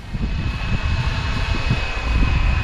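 A steady, droning motor whine of a FLYWING BO 105 RC model helicopter hovers throughout, with low rotor buffeting fluttering underneath, fairly close and constant.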